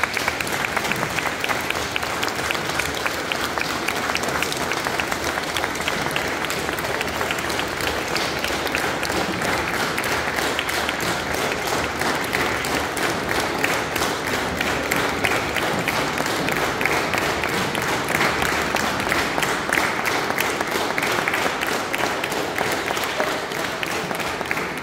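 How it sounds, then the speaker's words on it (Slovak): A church audience gives sustained, dense applause for a children's nativity play group in Raková, with steady clapping from many hands that holds at an even level for about twenty-five seconds. "Takže ešte raz jeden veľký potlesk pre celú túto skupinu"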